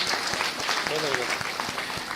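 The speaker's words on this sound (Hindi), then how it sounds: "आप लोग तालियां बजाकर स्वागत कीजिए।" An audience at the inauguration of an auditorium in Adarsh Nagar, Jaipur, claps in welcome, a steady wash of applause with sharper individual claps standing out and a voice briefly heard over it.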